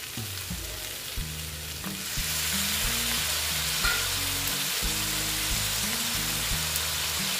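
A pan of soybean and egg curry sizzles softly, then flares into a louder, steady hiss as water is poured in. The frying keeps going under gentle background music.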